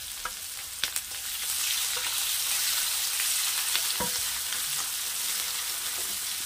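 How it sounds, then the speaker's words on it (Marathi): Onion, green chilies and curry leaves sautéing in a pan with mustard seeds and asafoetida for upma, a steady broadband sizzle with a few sharp spatula taps near the start and scattered clicks, close and continuous with no talk. "कांदा मिरची चांगलं असं परतून घ्यायचं."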